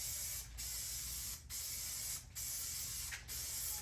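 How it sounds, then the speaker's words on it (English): An aerosol can of sprayable top coat hisses steadily as it is sprayed over a piece of antique wood furniture, in four long bursts separated by brief pauses, close and fairly loud with no talking. "This sprayable top coat is a great option if you don't own a sprayer"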